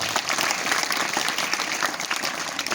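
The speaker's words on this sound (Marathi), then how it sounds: "आपण टाळ्या वाजवून त्यांचं स्वागत करूया" An audience claps steadily to welcome guests at an event, dense continuous applause from many hands filling the room without a break.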